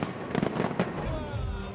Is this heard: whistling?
no